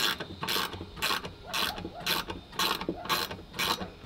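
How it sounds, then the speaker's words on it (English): Long bolts are tightened for a boat's anchor davit, a close rhythmic ratcheting of about eight regular bursts, each a clicking pawl sweep followed by a brief pause. "I'm now outside holding the bolts while Chris is tightening them"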